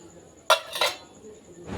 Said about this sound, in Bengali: আমি এখানে চার কাপগুলো ধুয়ে নিয়ে আসবো